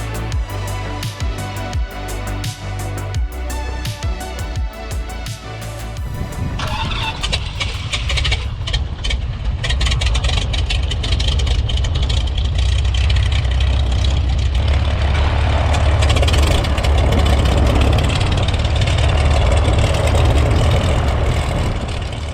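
Twin piston engines of an Aerostar 600 aircraft starting up, a whirring crank with rising roar as they catch, then settling into a loud, steady, throbbing idle heard from close by.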